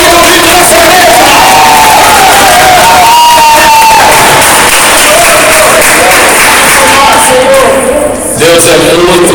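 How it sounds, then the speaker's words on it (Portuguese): A church congregation claps and cheers loudly, with whoops and shouts rising over the applause and a sung or chanted voice weaving through, all close and saturated. "vamos aplaudir em nome de Jesus"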